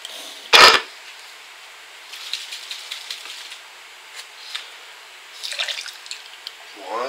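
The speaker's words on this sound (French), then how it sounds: "On rince." Water splashes briefly in a sink during rinsing while preparing fishing boilies, one loud gush followed by faint drips, light clatter and soft handling noises in a quiet room.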